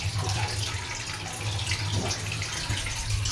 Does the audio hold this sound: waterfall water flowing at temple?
yes